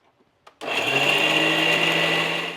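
After brief quiet with a few small knocks, a kitchen mixer grinder starts suddenly and runs with a loud, steady whirring whine, grinding coconut, turmeric, chili powder, cumin, pepper and yogurt into a paste.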